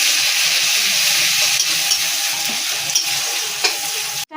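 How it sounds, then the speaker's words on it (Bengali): Chopped onions fry in plenty of oil in a wok, a steady close sizzle and crackle running throughout with a few soft stirring clicks, no voices. "সেই তেলের মধ্যে দিয়ে দেবো পেঁয়াজ কুচনো পেঁয়াজ দিয়ে দিলাম"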